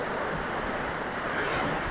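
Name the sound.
strong wind during first rainstorm of the year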